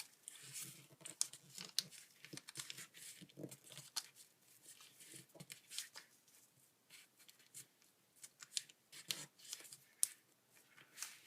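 Paper is folded and sharply creased by hand to make an origami ninja shuriken. Close, quiet crinkles, soft rustles and small taps come in intermittent bursts.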